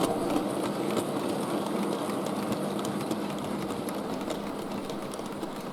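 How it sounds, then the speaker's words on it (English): A model train runs through a layout of Little Bytham station with a steady, busy mechanical whir and faint rhythmic clicking, continuous and fairly close, with no voices. "The down train re-enters its kicked-back siding."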